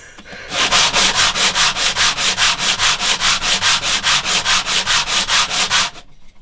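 The wooden back of a handmade guitar is sanded by hand in about twenty-two even, rhythmic rubbing strokes. The strokes are loud, close and rasping, with no other sound, and they stop abruptly near the end.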